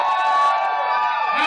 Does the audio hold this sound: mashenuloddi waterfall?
no